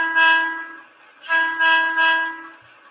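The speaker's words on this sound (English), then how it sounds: "So here's the MTH. We'll have a horn battle here." An MTH model train horn sounds loud and close: one short blast, then a longer blast pulsing three times, with its harmonic chord tone standing alone.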